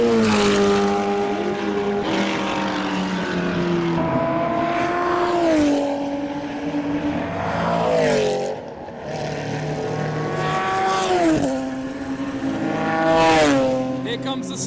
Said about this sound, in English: Here comes the GT40 overtaking the Chevron down the main straight.